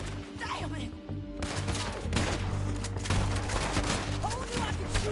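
Rapid gunshots ring out in the Red Dead Redemption 2 video game, cracking in dense bursts over a low rumbling backdrop, with voices faintly mixed in.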